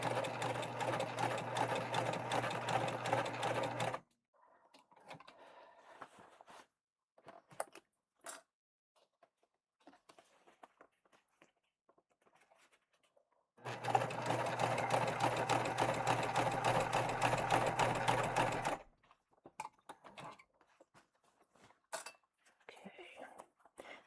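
A sewing machine stitches a tote bag in two loud, steady runs of rapid mechanical whirring, each a few seconds long. Quiet handling noises and soft fabric rustling fill the pauses between them.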